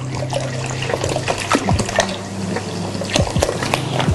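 Carbonated water poured for okroshka, a steady liquid splash and fizz close up, with small bubbling pops and no talking.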